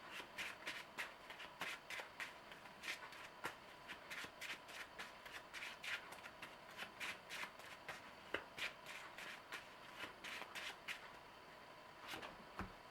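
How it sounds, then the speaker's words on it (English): Cards riffle and slap in a quick, steady rhythm, a close, crisp shuffling that goes on without pause and with no talking. "So we have to shuffle our deck and draw 3 more."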